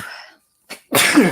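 A single sharp sneeze bursts out loud and close, preceded by a soft breathy intake and a brief gasp.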